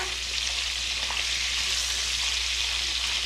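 Trout frying in butter in a pan, cooked outdoors: a steady, loud, close sizzle with even crackling throughout and no speech.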